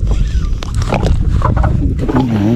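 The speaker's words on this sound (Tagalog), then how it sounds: "Compressor" Air compressor running aboard a small fishing boat, a dense, steady rumbling drone with rattling texture that fills the whole stretch at close range, with a faint voice-like tone rising near the end.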